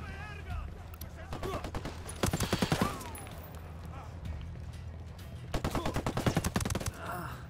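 Gunfire in a video game arrives as two distinct rapid automatic bursts with scattered single shots between them, fairly quiet overall, with a voice talking in places.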